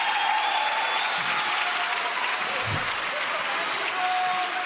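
Crowd applauding and cheering at a professional pickleball match, a broad, continuous roar of clapping from a large audience, with an announcer's voice faintly underneath and a brief low thump partway through.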